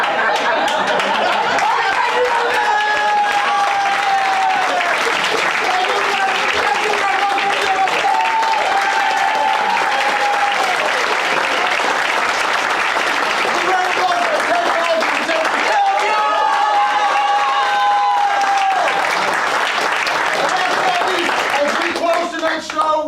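Audience at an improv comedy show clapping and cheering for a long stretch, lively applause mixed with chatter and chuckles, with voices talking over it throughout.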